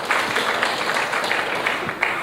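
Brief, steady applause from the audience at the Air Cargo India 2016 conference for a company chairman being introduced, dense and even across its short length.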